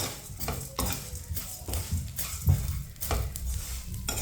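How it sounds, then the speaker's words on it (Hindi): A spoon scrapes and clinks repeatedly against a pan while thick broken vermicelli is stirred and roasted for sweet seviyan, with a faint sizzle underneath; the strokes are close and steady, and nobody speaks. "सेवियों को इसी तरह चम्मच चलाते हुए 2 मिनट के लिए भून लेंगे"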